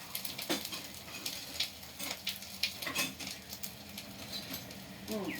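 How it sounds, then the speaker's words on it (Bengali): Whole spices and ginger crackle and sizzle in hot oil for tempering, a steady close patter of small pops under light kitchen clatter. "সব ফোড়ন দিয়ে দিয়েছি"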